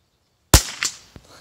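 A single sharp crack from a Savage MkII FVSR rifle fired at a target, sudden and close after silence, followed by a quick echo and a faint click.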